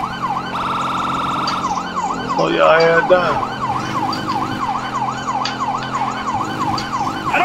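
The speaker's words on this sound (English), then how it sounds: "I don't think they can hear the sirens." Emergency vehicle sirens wailing in a fast rising-and-falling yelp, loud and close, with steady engine rumble beneath and brief talk from people in the car.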